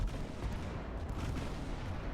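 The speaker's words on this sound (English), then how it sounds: "while getting hosed by 6-inch gunfire" Naval 6-inch gunfire in the Ultimate Admiral: Dreadnoughts video game, a dense, continuous rumble of distant booming salvos and explosions that stays loud and steady throughout, with no distinct individual shots.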